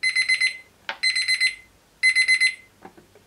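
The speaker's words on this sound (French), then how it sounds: "Donc l'alarme sonore, c'est intéressant parce que vous n'êtes pas obligé de rester le nez sur votre thermomètre." A ChefAlarm kitchen probe thermometer sounds its high-temperature alarm, three bursts of rapid, bright electronic beeps, each about half a second of fast chirps, loud and close, with faint handling clicks between.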